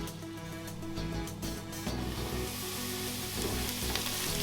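Onions cooking under a closed lid for crab biryani, making a continuous, even frying sizzle that grows a little fuller after the first couple of seconds, steady and fairly close throughout.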